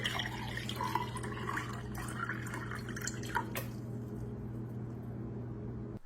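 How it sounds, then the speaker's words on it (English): Water trickles and splashes as it is poured into a glass for a few seconds, then stops, leaving a low steady hum. "If you take water and pour it into a glass"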